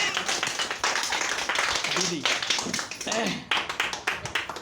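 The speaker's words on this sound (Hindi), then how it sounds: "एक बार जोरदार तालियां दीदी के लिए।" An audience claps for a woman about to share her experience at a spiritual gathering, brisk clapping heard close up beneath a voice.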